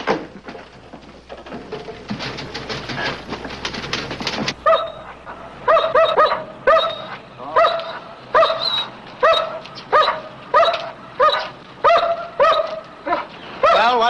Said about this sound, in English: Nice dog you got.